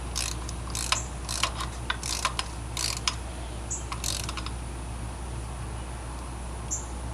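Torque wrench ratcheting in quick, irregular bursts of metallic clicks while working a rear spark plug on a Pontiac G8 V6, close and clear over a low steady hum, with no speech.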